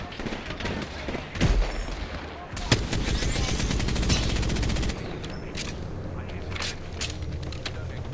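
Rapid automatic gunfire and bursts of shots from a competitive online shooter game, loud and sustained through most of the stretch, with a player's voice talking over the shooting.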